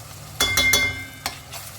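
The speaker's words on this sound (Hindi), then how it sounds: "इसको हम ना 3 मिनट जो है इसको फ्राई करेंगे" A spice paste fries in a pan while a spoon stirs it in several quick scraping strokes, each burst crackling up close over a low steady sizzle.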